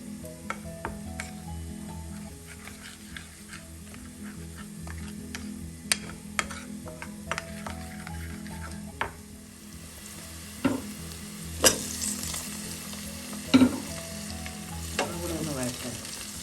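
Spices and onion masala sauté in a pan for a Kerala-style chickpea curry, giving a steady moderate sizzle and frying hiss broken by scattered clicks and scrapes of stirring, with no talk.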